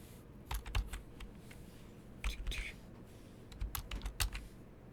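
Typing on a computer keyboard while building a FileMaker script, bursts of quick clicking keystrokes in several short runs with pauses between, close and fairly crisp.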